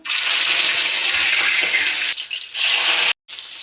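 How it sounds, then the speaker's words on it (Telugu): Chicken pieces go into hot oil with a loud, broad, rushing hiss that dips briefly and then cuts out for a moment before the frying resumes close by. "ఆయిల్ హీట్ ఎక్కింది చికెన్ ముక్కలు అయితే వేసుకుంటున్నాను"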